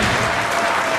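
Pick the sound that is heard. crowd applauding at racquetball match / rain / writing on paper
crowd applauding at racquetball match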